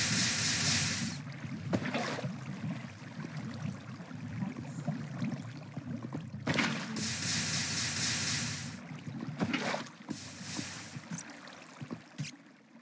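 Water flowing in Minecraft, a soft hissing rush with several brighter splashy surges, fairly faint and heard alone.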